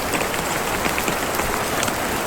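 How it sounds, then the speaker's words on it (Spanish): Rain falls steadily on a camping tent during a mountain storm at a reservoir, a dense, even hiss of drops pattering close by with no voices. "Está lloviendo."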